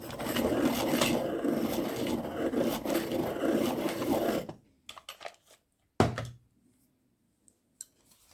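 An ivory colored pencil being sharpened, a close, continuous gritty scraping for several seconds that stops abruptly, followed by a few faint knocks and taps in near silence.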